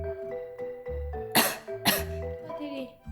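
A person coughs sharply twice in the middle, fairly close, over a steady background of low music and soft voices in a home with a dog nearby.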